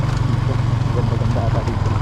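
A motorcycle engine runs at a steady, throbbing low idle-like rhythm on a rural road trip in Pangasinan. The sound is close and continuous for the whole short stretch, and no one talks over it.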